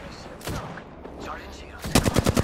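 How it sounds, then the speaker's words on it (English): Gunfire rings out in the Apex Legends video game, a few scattered shots early on and then a rapid close burst of automatic fire near the end, with faint speech in between. "They're shooting at me."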